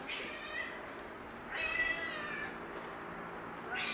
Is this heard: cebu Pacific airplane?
no